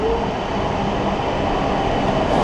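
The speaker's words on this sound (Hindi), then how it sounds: "ये भाई उस साइड जाने वाली ट्रेन तो आ गई है, ये टोक्यो जा रही है।" A Japanese bullet train bound for Tokyo rolls into a station platform, a loud, steady rushing roar with rail rumble and faint wheel hiss, close by and with no talk.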